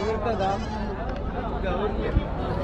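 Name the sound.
sheep and goat kids bleating at Konganapuram goat market, Salem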